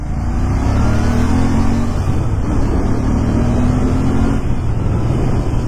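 A Royal Enfield Interceptor 650 motorcycle of 47 bhp pulls hard on a Hyderabad road, its engine loud and close, pitch climbing in repeated rising sweeps through the gears over a constant roar.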